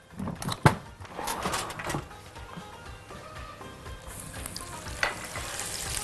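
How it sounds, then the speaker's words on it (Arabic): Butter drops into hot oil in a wok and sizzles with some stirring clatter and a few sharp knocks, then settles into a quieter steady fry. "حطيت شويه زيت، هاخد الزبده وابتدي انزل بيها"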